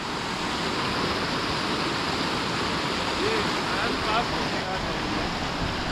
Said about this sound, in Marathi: पाणी बघा किती फोर्सने खालच्या साईडला जाते ते